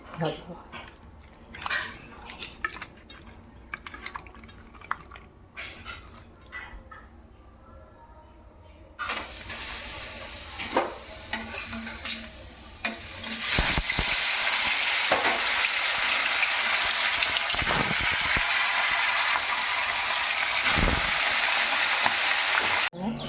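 Pieces of catla fish go into hot oil in a kadai: quiet clinks and a voice first, then a sudden burst of loud, dense sizzling that keeps crackling steadily, with a few sharp knocks.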